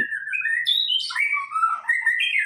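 A white-rumped shama sings a continuous, varied melody of clear whistles and rapid trills, close and loud, with no other sounds.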